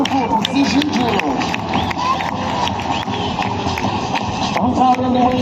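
Infantry marching in a precision drill, rhythmic shuffling footfalls beating steadily across the whole stretch, with a crowd murmuring and voices in the background.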